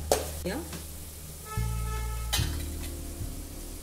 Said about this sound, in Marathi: मसाला छान परतलाय